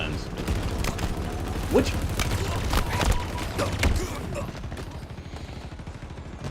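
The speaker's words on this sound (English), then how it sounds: "I never liked these alien guns" Alien weapons in a Halo video game fire in rapid, dense bursts, layered with thumps and mechanical clatter, while a person speaks briefly over the gunfire.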